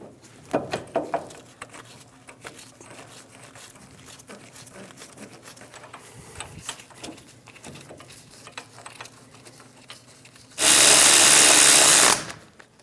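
Power tool driving the hub assembly bolts on a 2001-2006 Chevrolet Silverado front wheel bearing job, one loud sustained burst near the end after quieter shop handling noises.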